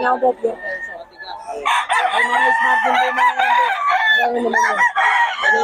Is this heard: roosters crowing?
yes